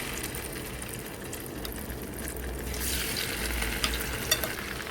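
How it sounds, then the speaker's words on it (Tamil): Marinated kingfish fries in hot oil with a steady, dense sizzle and crackle throughout, loud and close, with a few sharper pops near the end. "இப்போ 1 ஹவருக்கு அப்புறம் பொரிச்சிக்கலாம்."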